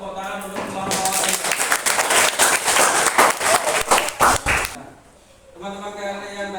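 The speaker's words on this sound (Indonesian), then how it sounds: "Kasih tepuk tangan untuk kelompok ini." A classroom of students gives a short burst of clapping for a group, lively and uneven for a few seconds before stopping abruptly, with a teacher's voice on either side.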